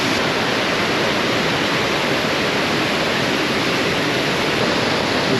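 Iguazu Falls pours over rocky ledges into a chasm close by, a loud, unbroken roar of rushing water that fills the whole moment with no breaks.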